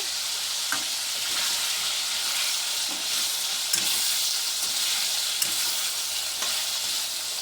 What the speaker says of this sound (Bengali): তারপর তোমাদের সাথে আবার আলু ভাজা বসিয়েছি